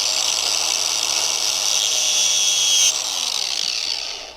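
Power tool cutting rubber engine hoses for an oil catch can install, a steady loud high-pitched whine running continuously that shifts pitch slightly near the end before tapering off.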